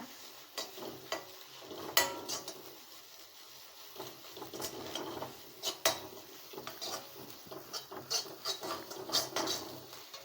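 A spoon stirring and scraping egg rice masala in a frying pan, with irregular clinks and knocks over a faint sizzle, close and fairly quiet.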